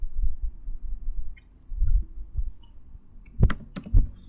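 Computer keyboard typing during a Git version-control lab session, with soft scattered keystrokes and a closer burst of several sharp clicks near the end, no speech.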